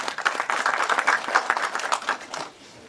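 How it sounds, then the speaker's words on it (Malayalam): A live audience applauds the actor Asif Ali at an event for the film Rorschach, with dense, steady clapping close by that thins out and fades over the last half-second. "നല്ലൊരു കയ്യടിയാവാം ആസിഫ് അലിക്ക്"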